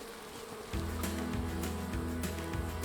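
Agitated honeybees buzz around a newly installed hive, a steady droning hum that swells louder after a quiet start and holds close and continuous.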